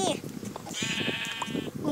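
Sheep bleating in the video game Minecraft, a short wavering bleat rising over a busy mix of chatter and game noise.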